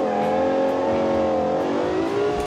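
A 1965 supercar in BeamNG revs hard under full throttle, its engine a loud, continuous rising whine with layered harmonics that climbs and dips slightly as it accelerates, close and without talk.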